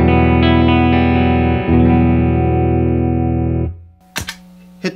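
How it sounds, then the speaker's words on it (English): An electric guitar rings through a tube amplifier with a traditional Fender-style clean tone, sustaining chords for several seconds before they cut off, followed by a few quiet string scrapes and plucks. "here we have the traditional Fender sound"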